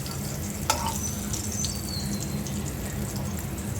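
Teasel gourd (kakrol) frying in a pan, with dried chillies mentioned alongside, crackles in a dense, steady close sizzle, marked by one sharp clink near the start.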